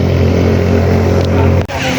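A boat motor runs at sea off Nasugbu, Batangas, a loud, close, continuous engine drone with a steady hum that drops out briefly near the end.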